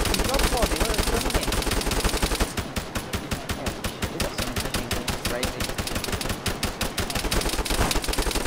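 Rapid rifle gunfire in Arma 3, a zombie-mode match, crackles in dense, fast bursts that run almost continuously, sharp reports stacking up close and loud over faint background sound.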